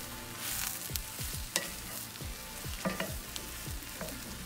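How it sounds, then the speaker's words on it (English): Mushrooms fry in a pan and get stirred, with a close, steady sizzle broken by repeated scraping strokes and small knocks of the utensil against the pan. "Kind of stir these up."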